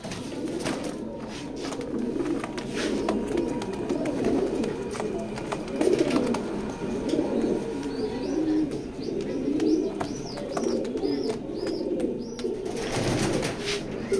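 Grizzle pigeons cooing in a loft, soft repeated coos and rustling close by, with a short series of higher chirps toward the end under a low background hum.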